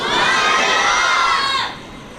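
A large audience responds in a loud, sustained collective shout of Subhan Allah at a religious gathering, a dense roar of many voices that holds steady before dropping away near the end.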